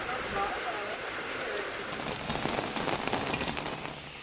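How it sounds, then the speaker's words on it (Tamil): Heavy summer rain, part of a thunderstorm in Tamil Nadu, pours down in a dense, steady hiss of drops on surfaces, growing slightly louder and more spattery midway. "சுற்றுவட்டார பகுதிகளில் இடி மின்னலுடன் கனமழை பொழிந்தது."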